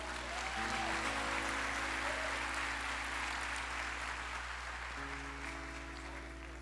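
A church congregation claps steadily for several seconds in a dense, even round of applause that slowly fades, with a faint sustained tone beneath it.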